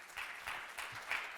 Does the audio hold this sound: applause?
yes